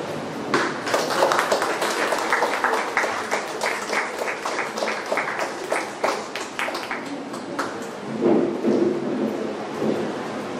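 Dense, sustained applause from an audience at a student felicitation ceremony, many hands clapping together fairly close, easing briefly near the end before swelling again.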